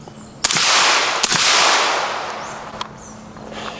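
Several sharp, muffled gunshots from a suppressed 5.56 rifle, each a quick crack followed by a lingering outdoor rumble, spaced about a second apart.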